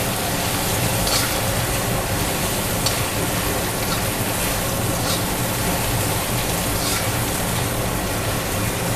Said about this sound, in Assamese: ইয়াতে এতিয়া মই কাটি থোৱা আলুখিনি দিম।